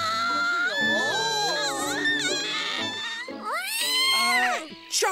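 Cartoon cat sings a wavering, meow-like song in a high, sliding voice, continuous and close with melodic swoops, from an animated Bremen Town Musicians story.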